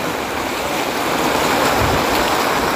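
Floodwater rushes through a village during a typhoon, a steady, loud, broadband wash of flowing water with no voices.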